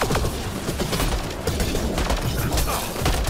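Gunfire in the video game Mass Effect: Andromeda rattles in dense, sustained bursts of rapid shots with crashing impacts, loud and close throughout.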